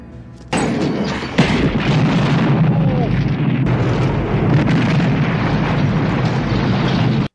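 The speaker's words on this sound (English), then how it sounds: "They weren't fucking around with the explosions in this movie" Film explosions from the 1988 horror movie Child's Play: a sudden loud boom followed by a second blast, then a long, roaring rumble that fills the soundtrack for several seconds before cutting off abruptly.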